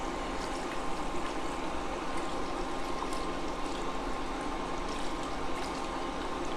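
Homemade enchilada sauce being whisked in a pan makes a steady wet swishing and sloshing, with faint metallic clicks scattered through it and no talking.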